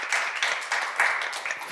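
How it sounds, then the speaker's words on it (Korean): Congregation in a church seminar clapping together in a steady, close, fairly loud burst of applause with no talking over it. "박수로 하나 더 해서"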